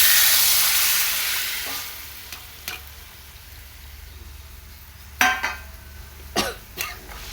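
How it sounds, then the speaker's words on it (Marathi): Cooked, finely chopped shepu and chuka greens stirred in a pan, a soft sizzle fading through the first seconds, then a few sharp utensil scrapes and taps toward the end, close by with no talking. "मी शापू आणि चुका शिजवून घेतलेला तो बारीक करून घेतलेला मिश्रण ते त्यात टाकून घ्या"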